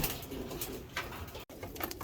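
Pigeons in a breeding loft give soft, steady cooing close by, a continuous murmur of several birds with a brief break partway through.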